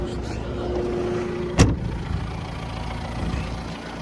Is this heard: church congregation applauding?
no